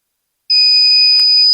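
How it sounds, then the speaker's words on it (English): Circuit Detective breaker finder emitting a steady, loud electronic beep tone at circuit breaker 6 in a breaker panel, starting abruptly after a brief silence and holding continuously to the end. "it should beep when we've identified our circuit breaker"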